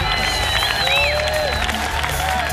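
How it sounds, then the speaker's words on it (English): Spectators at a SUP race world series final clap and cheer steadily, with whistles and shouts rising over a dense crowd roar, while a voice talks over it. "A big round of applause for the greedy guy, Kai Lennig, trying to win everything."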